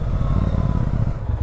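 A motorbike engine idles steadily and close, a low throbbing rumble with a slight uneven pulse while waiting at a red light.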